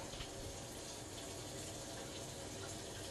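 Hot water running steadily from a kitchen tap into a sink, a continuous close broadband splash and hiss with no talking.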